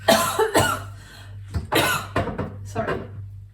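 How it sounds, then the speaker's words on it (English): A person coughs in a series of harsh bursts while organising a kitchen spice cabinet, with a steady low hum underneath and brief talking between coughs. "excuse my coughing."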